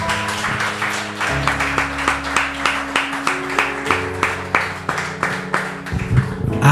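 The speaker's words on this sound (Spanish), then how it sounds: "Dale un fuerte aplauso a Cristo." A church congregation claps in rhythmic unison, a steady run of sharp, evenly spaced handclaps over a sustained organ or keyboard chord, lasting several seconds.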